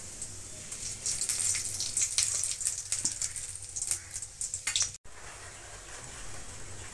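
Whole spices (cumin, bay leaf, dried red chilli) sizzling in hot mustard oil in a wok: a steady bright crackling hiss with scattered pops, fairly loud and close, briefly cut off near the end.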